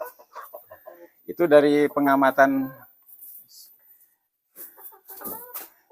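Chickens in a small home-scale backyard flock, a heavier rooster among the hens, cluck in short bursts, with a louder harmonic call near the middle, while a voice talks over them.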